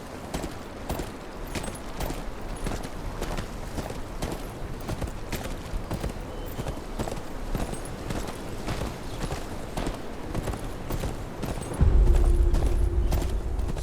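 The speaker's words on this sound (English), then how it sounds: "Where's your horse? Mount up and let's go." Horse hooves clip-clopping at a steady riding pace in the video game Game of Thrones: Kingsroad, a continuous rhythmic patter of hoofbeats, with a louder low rumble entering near the end.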